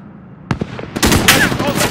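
Gunfire in Call of Duty Modern Warfare: a few scattered shots, then a dense, continuous burst of automatic fire. It is loud and close, with a voice briefly mixed in.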